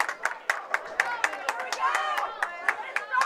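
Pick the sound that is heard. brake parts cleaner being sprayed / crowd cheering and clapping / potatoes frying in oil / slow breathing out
crowd cheering and clapping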